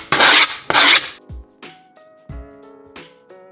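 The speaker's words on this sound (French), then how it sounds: "Après, tu chopes une lime et tu fais le tour." A metal file rasps along the edge of a skateboard deck to trim the griptape: two loud, close scraping strokes, followed by quieter knocks and a faint ringing tone.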